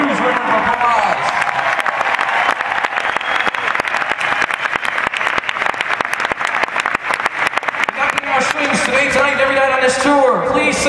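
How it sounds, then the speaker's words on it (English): Concert crowd applauding and cheering for the string section at a live show in Uncasville, loud sustained clapping throughout with a voice speaking over the end. "please give our strings a huge round of applause"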